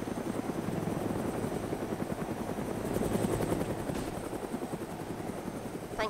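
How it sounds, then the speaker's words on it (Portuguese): Steady rotor thrum of a helicopter in the video game DayZ, loud and continuous throughout with a dense chopping pulse and no voices over it. "Nosso helicóptero você viu, né?"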